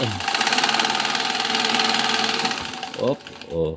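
A treadle sewing machine, just repaired after a cracked feed-lifting part, runs with a steady rapid mechanical chatter, then slows and stops as short whirring bursts follow near the end.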